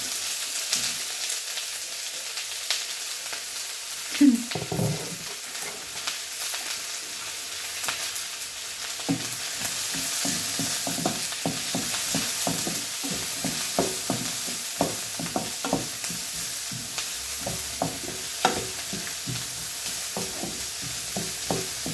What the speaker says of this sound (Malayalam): ഇഞ്ചി വെളുത്തുള്ളി സവാള എല്ലാം കൂടെ ഇട്ട് വഴറ്റും